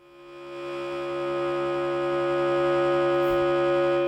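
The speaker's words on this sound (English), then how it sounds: "the pre-gain can actually act as a wave-folding distortion when you turn it up high enough" A sustained synthesizer chord on a Haken Continuum swells and holds, buzzing with dense, gritty harmonics from heavy wave-folding distortion with pre-gain at maximum.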